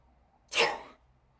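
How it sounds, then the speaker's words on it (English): One short, sharp sneeze close to the microphone, a sudden burst against a quiet background. "sorry about that sneezing in your ear"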